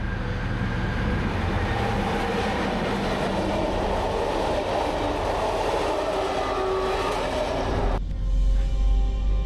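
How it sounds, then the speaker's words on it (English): A train passes in the opposite direction while a Siemens Desiro multiple unit waits at an unscheduled stop on the Hungarian line toward Győr. The passing train makes a loud, steady, close rumble that lasts about eight seconds, then ends abruptly. "we have to make an unscheduled stop to allow another train to pass in the opposite direction"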